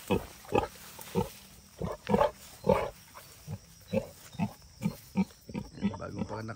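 Pigs and piglets on a farm, hiding in the undergrowth, give a steady run of short grunts and squeals roughly every half second, close by and fairly loud, with a little human voice mixed in.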